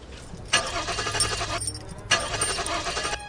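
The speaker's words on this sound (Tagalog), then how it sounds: "Subukan mo kaya uli i-start yung kotse." Car engine cranks in two bursts without catching, a starter whirring with a metallic jangle and a short pause between the attempts.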